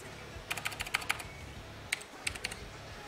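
Quick bursts of typing on a computer keyboard, a flurry of clicks followed by a brief pause and another short run of keystrokes, close up.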